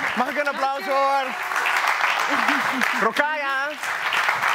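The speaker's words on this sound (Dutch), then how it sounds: "Mag ik een applaus horen?" Audience applause at a Dutch-language theatre talk, clapping running steadily underneath a person's voice that speaks over it throughout.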